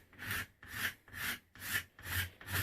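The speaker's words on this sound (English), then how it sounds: "I may even take the rasp because it's pretty heavy there still" A rasp shapes a yew bowstave limb in steady back-and-forth strokes, about five rough scraping passes in a regular rhythm, close and clear.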